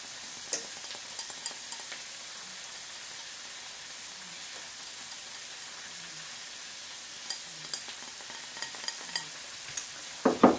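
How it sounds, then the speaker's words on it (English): Asparagus sautés quietly in a pan, a soft, even sizzle running throughout with a few sparse crackles and small knocks, growing briefly busier near the end. "while our asparagus is sauteing nicely"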